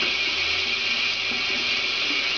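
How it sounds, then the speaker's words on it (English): Running water from a tap pours steadily over a makeup brush being rinsed out after washing with shampoo, a constant close hiss and splash with no pauses and no voices. "Rinsing it out."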